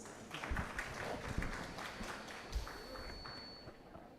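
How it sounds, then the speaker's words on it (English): Applause from the audience at an annual dialysis technicians' conference welcoming a nephrology guest, a soft, somewhat distant patter of clapping in a large room that gradually thins out. "Let us welcome him with a round of applause."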